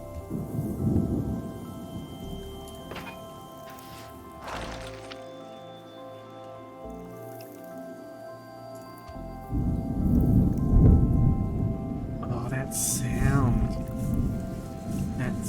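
Rain patter and low thunder rumbling from a thunderstorm in the video game Terra Nil come and go beneath someone talking, with a quieter pause in the middle and a louder stretch of rain later.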